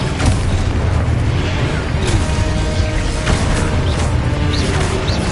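Spell blasts in a wizarding action game hit in heavy booms and crashes within a dense, loud, continuous wash of magical combat noise, with faint shouting mixed in.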